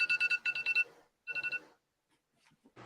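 A phone alarm beeps in short rapid pulses, one burst of several beeps, then a pause and another shorter group, loud and near, with no one speaking.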